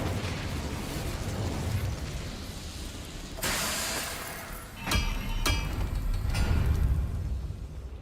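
A fire spell cast in Hogwarts Legacy, heard as a sudden burst at about three and a half seconds followed by sharp crackling pops and a rumbling whoosh over steady game ambience.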